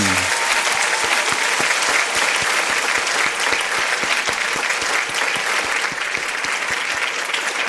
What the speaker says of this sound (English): That's a lot of applause.